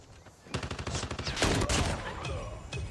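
Rapid, loud gunfire from a .50 GS handgun in Call of Duty Mobile, a dense rattle of shots in quick succession with a heavier burst midway and a final crack.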